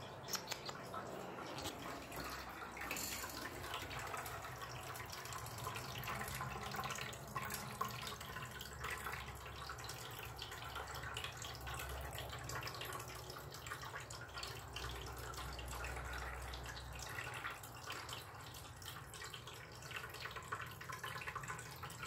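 A pet water filter fountain bowl runs continuously, giving a steady, soft trickle of falling water with a constant low hum and no voices.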